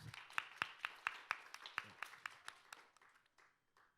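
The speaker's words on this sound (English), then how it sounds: "So please welcome him with a big round of applause" A short burst of scattered clapping from a small group at an academic session, sharp and close at first, thinning out and fading within a few seconds.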